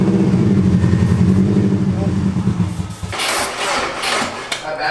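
A Subaru WRX engine catches and runs, starting with a steady low rumbling idle that then drops away into sputtering, uneven bursts, close by with a person speaking over it.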